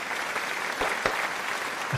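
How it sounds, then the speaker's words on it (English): An audience claps steadily to welcome a guest, Alex Stein, onto a comedy show. The applause is even, crowd-wide and moderately loud throughout. "applause, please"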